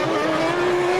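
A 1998-season Formula 1 car screams along at Monaco, drawing alongside a rival toward the Casino hairpin, its high steady engine note holding loud and close for a brief second with no voices.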